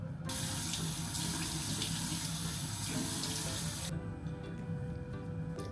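A tap runs steadily into a sink during face washing, close and continuous, then the flow drops off sharply toward the end, leaving a quieter trickle.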